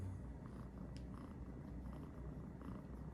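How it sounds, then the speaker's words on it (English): A house cat purrs steadily and close up, a continuous low rumbling throb with no voices over it. "She's purring up a storm right now."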